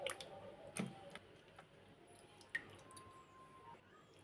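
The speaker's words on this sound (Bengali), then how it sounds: "ভালো করে চটকে নেব।" Roasted mango pulp being squeezed and mashed by hand for a sherbet drink, faint wet squishes with a few soft drips and clicks, close up and quiet.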